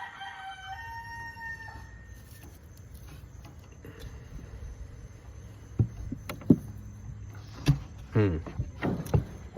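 A rooster crows at the start, then chickens cluck and squawk in scattered, uneven bursts close by.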